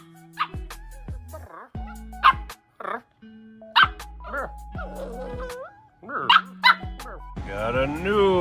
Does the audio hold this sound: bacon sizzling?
no